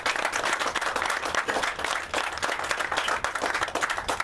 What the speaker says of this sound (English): a round of applause to the current staff, to Kari and her staff, who now run both Eastwood and Fort Myers.